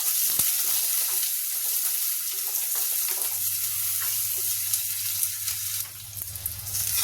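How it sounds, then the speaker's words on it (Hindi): Chopped onion frying in oil until light brown, a dense steady sizzle close by with a low hum underneath and occasional small knocks, softening slightly toward the end. "अब ये जो प्याज मैंने काट के रखा है, देखिए ये इसको मैं थोड़ा सा लाइट ब्राउन करूंगी"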